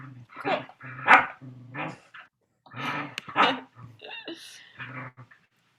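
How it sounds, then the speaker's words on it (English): A talkative dog barks and grumbles in a few short vocal bursts with growly, whining tones, close and fairly loud, separated by brief pauses, with a person speaking briefly. "That's our dog."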